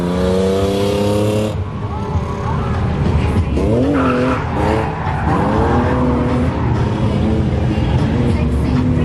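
A car drifting with tires squealing and skidding in long, loud sliding screeches, engine revving underneath, with people talking nearby.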